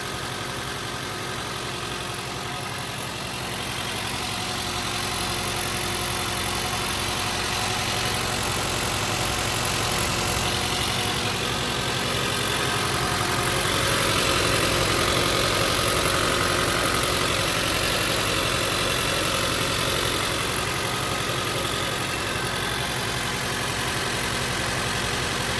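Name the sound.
car engine idling after head gasket sealer was added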